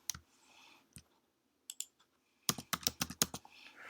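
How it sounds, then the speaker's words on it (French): A computer keyboard clicks as a word is typed, first a few scattered taps, then a quick close burst of keystrokes in an otherwise quiet room. "Alors je tape le mot intérieur."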